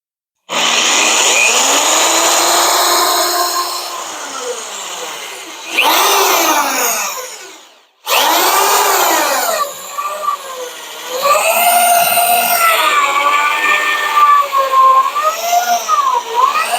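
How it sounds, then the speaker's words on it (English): A power drill bores a hole into the frame of a 1940 Dodge rat rod, the motor whining loud and close, pausing briefly and restarting, its pitch sagging and wavering as the bit bites into metal. "Probably should have drilled the pilot hole."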